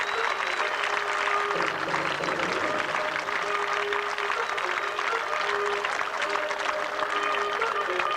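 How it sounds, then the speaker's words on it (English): A stadium crowd at a cycle speedway team final applauds steadily as the England team arrives, a dense, even wash of clapping with light cheering over a few seconds. "Ladies and gentlemen, put your hands together, give them a cheer."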